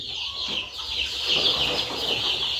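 Two-day-old Goliath chicks chirp and cluck in a small flock at close range, a continuous high twittering with no one talking.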